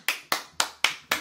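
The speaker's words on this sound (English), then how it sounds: "Round of applause" Five sharp, evenly spaced claps in just over a second, a single pair of hands clapping close by in a steady rhythm with no other sound.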